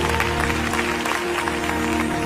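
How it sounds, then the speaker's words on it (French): A church congregation applauds loudly and continuously, a thick roar of clapping over a steady low musical hum. "Give God a great round of applause for that."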